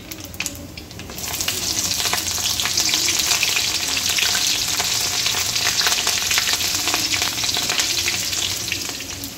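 Green chillies sizzle loudly in hot oil with crackled mustard seeds and cumin, a steady close-up frying hiss that swells after a quieter first second and continues alone without talking.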